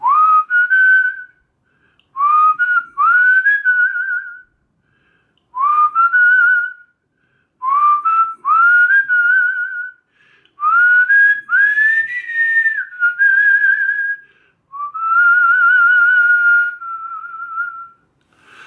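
A person whistles a melody alone, clear and close, in phrases of sliding notes separated by brief pauses.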